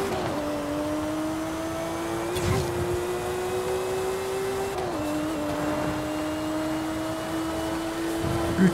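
A Subaru SVX engine in Forza Horizon 5 drones steadily at a constant pitch, shifting slightly down partway through, with faint background noise.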